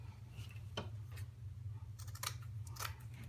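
Scissors snipping material for a whimsical bee wreath, a few faint separate cuts followed by a quick cluster of snips over a low constant hum, with no voice.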